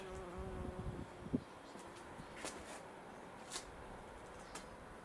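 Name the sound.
wasp buzzing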